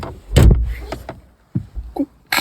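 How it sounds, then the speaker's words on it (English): A damaged MINI's car door is pushed shut but fails to latch, giving a couple of dull, close thuds and rattles followed by smaller knocks, with no voices. "Door is not closing."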